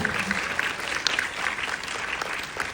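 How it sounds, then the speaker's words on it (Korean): Audience applause after a film screening, a steady wash of many hands clapping at moderate distance with a faint voice or two rising over it for the full length. "네, 큰 박수 많이 쳐주십시오."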